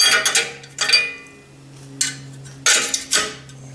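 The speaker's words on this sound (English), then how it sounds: "they've got a place to store this wrench" A metal wrench being stowed in the storage holder of a Delta 18-900L laser drill press, a few close metallic clinks and rattles with brief quiet gaps.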